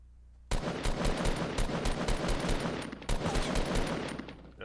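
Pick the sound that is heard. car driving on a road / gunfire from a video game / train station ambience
gunfire from a video game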